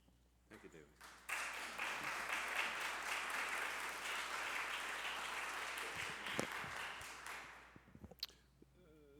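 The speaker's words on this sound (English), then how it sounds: "that applause was actually for you" Enthusiastic applause at a Voting Rights Act 50th anniversary ceremony, a crowd clapping continuously for several seconds after a short start, then thinning out with scattered claps and faint talk near the end.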